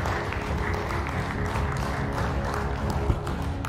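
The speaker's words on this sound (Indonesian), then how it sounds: "Sekali lagi kita berikan tepuk tangan yang meriah" A crowd claps at a ceremony inaugurating national projects, moderate applause with a low hum and murmuring underneath, steady with one sharper clap near the end.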